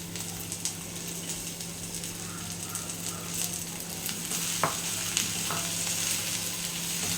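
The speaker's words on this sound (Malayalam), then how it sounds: "ചെറുതായിട്ട് കട്ട് ചെയ്ത് വെച്ചിരിക്കുന്ന വെണ്ടയ്ക്ക ചേർത്ത് കൊടുക്കാം. ചേർത്ത് കൊടുത്തതിന് ശേഷം അത് ഇളക്കി കൊടുക്കാം." Chopped okra stirring and frying in a pan for a Kerala vendakka thoran, a steady close sizzle with a few scraping stirs of the spoon standing out briefly.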